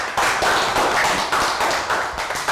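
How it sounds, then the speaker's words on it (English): A small group of primary-school pupils in a Year 3 maths class claps for a classmate, a short dense patter of hand claps lasting a couple of seconds, fairly close and steady. "Round of applause for Lakgao"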